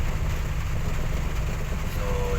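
Heavy rain drums steadily on a road and vehicle at night in the Philippines, a dense, loud, unbroken wash with a low rumble beneath it.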